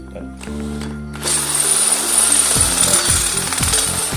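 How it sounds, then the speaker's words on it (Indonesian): A harsh, loud mechanical drilling noise as a small drill bit bores a hole in an iron pipe starts after a moment and grinds on steadily, with rhythmic pulsing toward the end. "dengan menggunakan mata bor kecil seperti ini"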